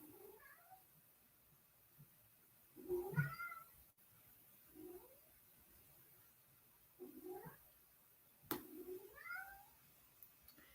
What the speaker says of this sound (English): I don't know if you guys can hear my cat in the background.